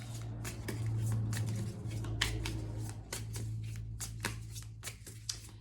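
Tarot cards riffle and slap in repeated shuffling bursts, close and crisp, with a low steady hum running underneath throughout.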